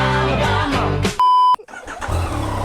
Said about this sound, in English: there you can hear the triple cylinder, but it sounds so weak